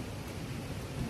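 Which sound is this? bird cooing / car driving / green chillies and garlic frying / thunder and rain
thunder and rain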